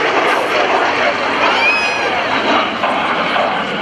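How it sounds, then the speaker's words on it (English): An L-39 jet trainer roars past at close range during an airshow, a steady loud engine rush with a whining tone that shifts as it passes. "The L-39 is the most widely used jet trainer in the world"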